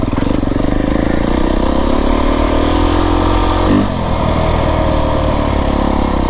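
A Beta 350RR X-Pro dirt bike engine droning steadily on a Memorial Day trail ride in the Santa Rita mountains, loud and close, with a brief dip and rise in revs near the end.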